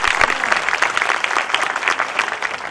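Audience at a school annual function for a Class I show claps steadily, a dense, continuous round of applause filling the room without pause.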